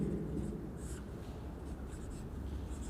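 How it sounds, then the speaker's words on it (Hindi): Chalk or marker writing a statement on a classroom board during an abstract algebra lecture, a steady close scratching texture that runs continuously, with no talk over it. "देखना मैं स्टेटमेंट लिखता हूँ"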